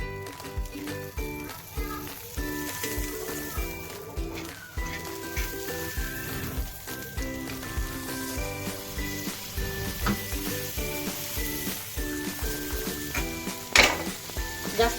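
Bread warming in butter in a pan for a quick egg-bread breakfast gives a continuous gentle sizzle. Utensil clinks and background music or other tonal sounds run through it, with a sharper clatter near the end.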